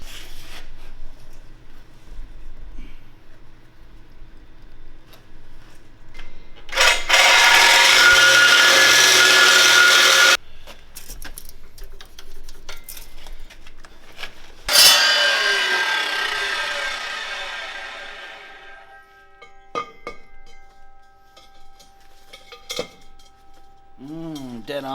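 Angle grinder cutting steel for a metal storage rack: two loud bursts of harsh, high screeching grind, the second spinning down slowly, with quieter clanks and handling noises between and brief talk.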